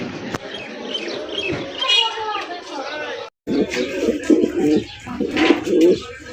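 Madrasi Golla fancy pigeons in a pigeon market collection coo in low, rolling bursts, partly masked by people talking close by.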